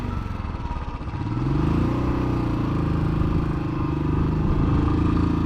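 A motorcycle engine revs steadily on a steep mountain road at high altitude in Sikkim. The drone is loud and close and rises in pitch after the first second, with no voices.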